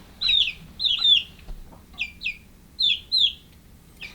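Baby chicks in a homemade brooder give repeated high, sharp peeping chirps in short bursts with brief pauses between them, close and clear with no talking.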